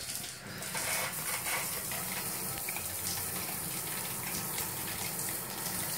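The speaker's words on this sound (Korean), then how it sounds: "뜨거운 물 테스트 해보겠습니다" Hot water runs from a tap after an electric water heater was installed, a steady close gushing stream with a constant hiss that barely changes from start to finish.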